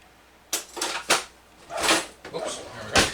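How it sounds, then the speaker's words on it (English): A kitchen drawer is pulled open and cutlery is sorted to grab a spoon, giving a series of sharp rattling clacks and metallic jangles at uneven intervals, fairly close. "I'm gonna grab me a spoon"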